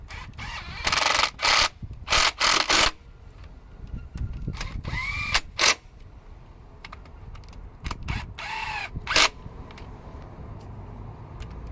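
Torque wrench tightening bolts in a sequence on a vehicle, a series of sharp mechanical clicks and ratcheting bursts, some in quick clusters, others spaced apart, with quieter handling noises between.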